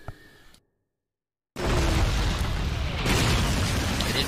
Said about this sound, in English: Man, they got mortars.